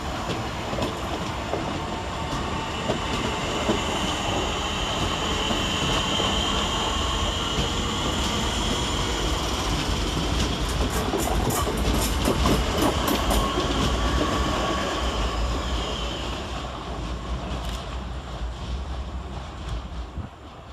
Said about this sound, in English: Up next for departure is an unidentified 466, 465156 and 465184, with the 1230 Southeastern service from London Charing Cross to Dartford.